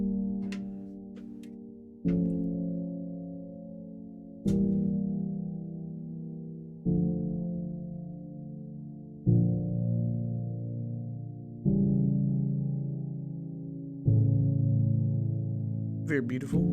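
A dark, mysterious chord progression from the Scaler 2 plugin plays as sustained, pad-like chords. It changes about every two seconds, seven chords in all, with no voice over it.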